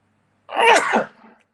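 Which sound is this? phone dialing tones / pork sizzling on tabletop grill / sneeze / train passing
sneeze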